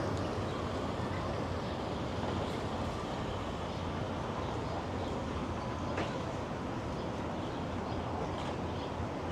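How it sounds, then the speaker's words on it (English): A Via passenger train rolls past a shopping-area parking lot in a steady, dense rumble and rattle that holds at even loudness throughout, with no voices. "Saw a Via train go by."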